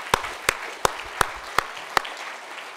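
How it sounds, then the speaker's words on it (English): Six sharp, evenly spaced claps ring out at a community event, a slow and steady rhythm that stands clear against a quiet room. "We should give you another round of applause."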